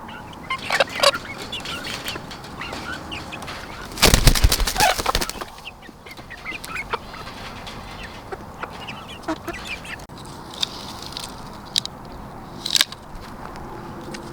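Chickens and roosters on a homestead flock, scattered clucks and calls near and far with a brief burst of loud flapping or scuffling in the middle, then intermittent fowl sounds continuing.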